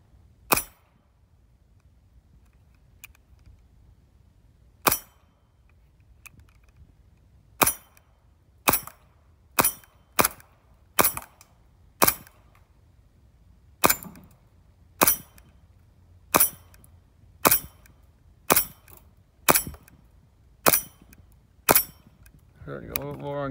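Sharp pistol shots from an EMG STI/TTI JW3 hi-capa CO2 airsoft pistol, about seventeen close, loud cracks fired one at a time at a fairly steady pace, with a metallic rattle at the end.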